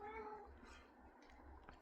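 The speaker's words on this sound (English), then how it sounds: "if you hear upset kitties in the background," Upset cats meow and yowl faintly in the background, a drawn-out wavering cry followed by softer, muffled vocalizing.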